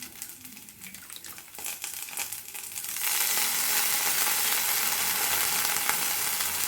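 Washed coriander leaves hit hot oil in a pan, starting with a soft sizzle and crackle before swelling into a loud, steady hiss of frying that holds to the end, with no talking.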